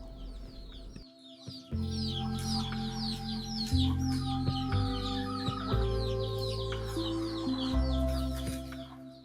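Free-range chickens clucking and a dominant rooster calling over a busy background of birdsong, with a low droning hum running underneath.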